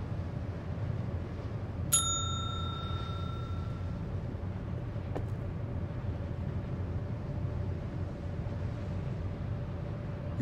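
A bell in the point-and-click game Secret Files 2: Puritas Cordis gives a single bright ding that rings out for about two seconds over a steady low rumbling ambience, followed later by a faint click.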